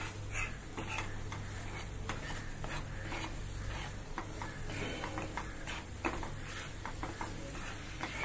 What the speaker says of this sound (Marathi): सतत हलवायचं आहे आपल्याला.